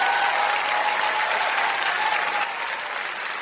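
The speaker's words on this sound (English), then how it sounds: "So let's give a round of applause to those big bads," Audience applause at a horror-themed awards ceremony: a dense, steady wash of many hands clapping throughout, loud and evenly sustained without pause or talk.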